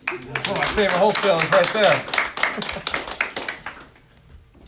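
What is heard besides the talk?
audience round of applause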